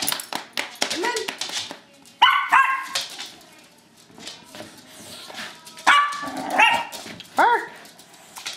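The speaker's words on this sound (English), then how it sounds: "Bark." A Cocker Spaniel and Shar Pei mix dog lets out a series of sharp, high barks and yips in bursts, some whimpering between them, with people talking nearby at moderate volume.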